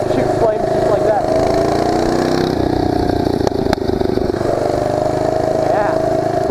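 Small mini bike engine with a flame-shooting muffler running loud and close on a night ride, a steady buzzing drone with a brief dip, and a voice talks over it.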